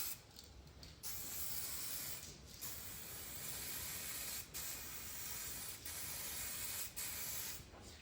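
A spray paint can sprays a second coat in several bursts of hissing, with short pauses between passes. It is close and fairly quiet, and the rattle of the can is heard between sprays.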